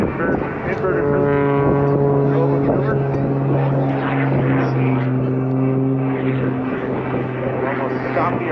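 Small 85-horsepower aerobatic propeller plane at an airshow, engine droning loud and steady with a strong low harmonic stack as it slows nearly to a stop in flight and rolls inverted.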